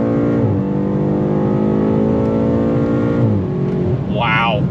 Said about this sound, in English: on throttle, here we go. I love the hit off the line.